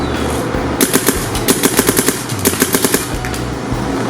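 A Madman's DLX Luxe blaster fires in cold weather, letting off loud rapid bursts of sharp, rattling shots in several quick volleys, close by with no talking.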